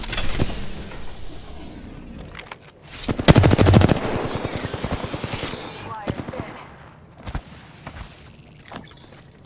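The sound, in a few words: gunfire from a gun in the video game Apex Legends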